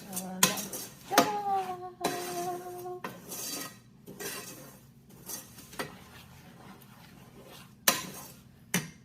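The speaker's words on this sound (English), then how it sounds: "you just gotta keep stirring" Utensil scrapes and clinks against a pot while flan de queso mixture is stirred, in short irregular bursts with quiet gaps between them.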